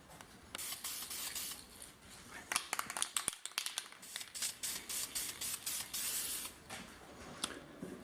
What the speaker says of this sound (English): So I'm going to start priming the block and the heads, get those ready to go